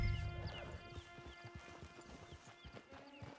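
Horse hooves clip-clop at a steady walking rhythm on a path in the video game Red Dead Online, moderately close, with a brief whinny at the start and faint game ambience underneath.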